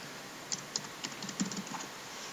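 A handful of separate keystrokes on a computer keyboard while entering a switch command, light clicks spaced irregularly and close by, with nobody talking.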